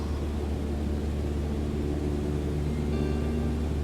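Steady, loud aircraft engine drone from inside the cockpit as the throttle is eased back for descent, a continuous low rumble with a faint tone rising near the end.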